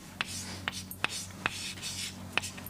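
Chalk or marker strokes on a board during a lecture on semiconductor junction depth, a handful of short taps and scratches spaced irregularly over a low steady hum, close and fairly quiet.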